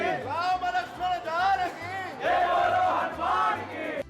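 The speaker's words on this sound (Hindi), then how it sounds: "लेकिन इस भीड़ का फायदा ये रहता है कि एनर्जी रहती है एकदम हाई और खूब जयकारे लगते हैं।" A crowd of pilgrims at the Hanuman Garhi temple in Ayodhya chants religious slogans in unison, loud rhythmic group shouts repeating in waves with a steady pulsing beat beneath.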